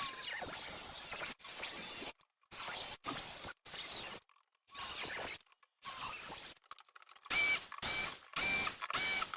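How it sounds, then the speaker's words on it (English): A jigsaw cuts a vent opening in a luxury vinyl plank (LVP) floor plank in short, separate bursts of rasping buzz with silent pauses between them. The sound is fairly quiet and close. "I have a jigsaw to do the last part of the cuts in those two corners"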